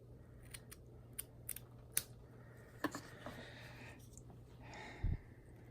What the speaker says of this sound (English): Now they're uneven, and that's okay, because I am going to trim them up here.